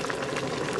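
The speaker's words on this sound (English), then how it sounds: "We have a roiling boil right now." Water at a rolling boil in a 10 kW thermal storage setup in Kathmandu, giving a steady, dense, close rush of bubbling and churning that lasts under a second.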